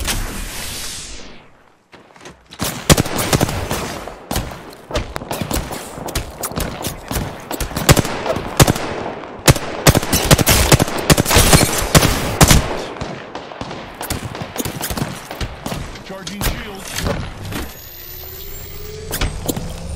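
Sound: gunfire in the video game Apex Legends

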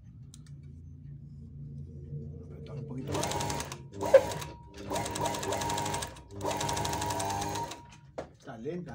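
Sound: Brother industrial sewing machine stitching

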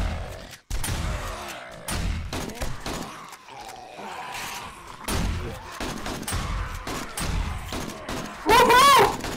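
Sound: gunfire in video game 7 Days to Die

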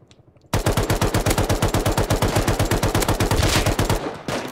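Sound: gunfire in a video game

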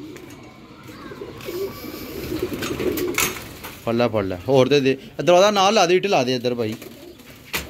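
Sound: pigeons cooing

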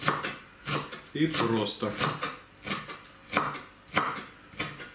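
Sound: knife chopping dill and parsley on a board

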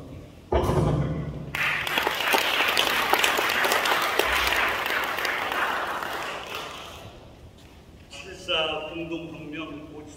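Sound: audience applause

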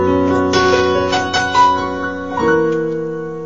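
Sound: piano playing chords of As The Deer

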